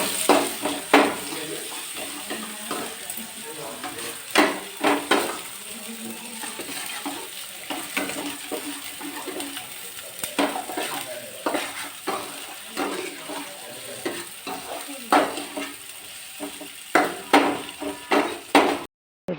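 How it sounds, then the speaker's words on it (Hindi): Onions fry in oil in a pan for macaroni, a steady near sizzle broken by repeated spoon scrapes and clinks against the pan, uneven stirring bursts throughout before a brief cutoff. "तो जी प्याज हमारी भुन गई है।"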